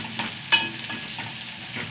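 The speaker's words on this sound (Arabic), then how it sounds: "بيتحمر في الزيت وبيدي ريحه جميله جدا" Peppers and garlic frying in oil give a close, steady sizzle, with a few brief scrapes of stirring on top, and no voices.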